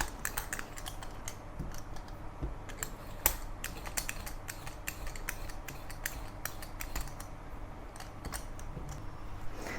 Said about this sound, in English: Use the vegetable peeler to remove the tough,